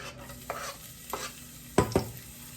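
Onion whites sizzle quietly in a pot for a white bean tomato stew, with a faint frying hiss under a few stirring scrapes and two louder knocks near the end.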